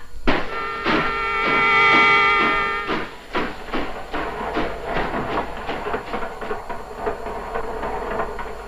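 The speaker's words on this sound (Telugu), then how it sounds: "రైలు వెళుతున్న శబ్దం వినిపిస్తోంది?" A passing train rumbles with rhythmic clacking of wheels over rail joints, a loud metallic screech early on, then repeated thuds fading slightly.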